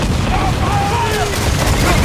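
Naval battle video game cannon fire: dense booming low rumble fills the clip, with sustained gunfire-like blasts and game noise, loud and continuous under shouted battle commands.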